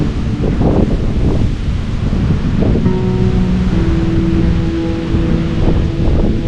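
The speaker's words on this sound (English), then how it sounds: "The sound of the waves, which are pretty strong, pretty loud" Strong ocean waves break on a Guam shoreline, a loud, continuous rushing surf mixed with gusty wind noise and no voices.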